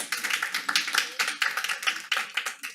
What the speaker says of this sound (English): Can we please hold applause so that we can maintain order in the meeting?